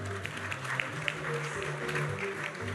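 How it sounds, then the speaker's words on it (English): Guests at a Caribbean awards ceremony clap for the winners, a moderate wash of applause with a few sharper claps standing out, over a low background hum and faint voices. "One big round of applause for all these lovely winners,"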